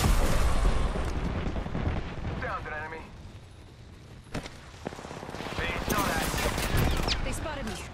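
Gunfire in Apex Legends, with dense rapid shots and blasts over a busy game soundscape. A voice is talking over the firing.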